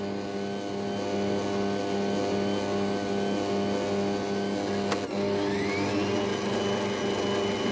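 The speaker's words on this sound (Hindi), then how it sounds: "मैं इसको मशीन में गूंथ रही हूँ।" A dough kneading machine works flour for naan with a steady motor whir and hum, continuous and moderately loud at close range, with a faint scrape partway through.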